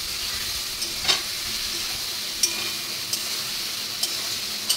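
Food sizzles steadily in a hot pan while a spoon stirs it, with a few sharp scraping clicks against the pan breaking through the continuous frying hiss; no voices are heard.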